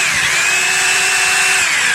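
A diamond core bit on a hammer drill machine spins in drill mode, a loud, steady high-pitched whine that holds for the whole stretch without breaks or voices.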